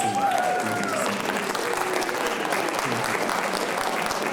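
Audience applause for Virgos at a poetry reading during a school writers expo, steady dense clapping from a crowd that holds evenly throughout, with a brief voice rising over it at the start.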